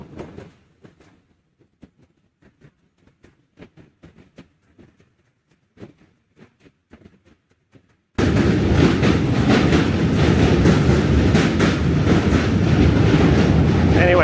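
A New York City train rumbles past loudly and steadily with a dense, continuous roar, preceded by quiet scattered clicks and faint sounds before it arrives.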